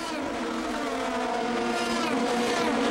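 A Sebastian Bourdais Supernova Lola Formula 3000 car races at Monza, its high engine whine buzzing steadily and loudly as it passes, with no talking.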